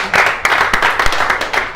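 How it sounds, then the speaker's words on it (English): A seminar audience clapping for themselves after a lesson, loud close hand claps with sharp individual strikes within a short burst of applause, no voices. "Give yourselves a round of applause."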